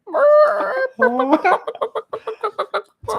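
A man imitates a hen with his voice, a loud run of rhythmic clucking bursts that speed into short repeated clucks, close and alone with no other speech.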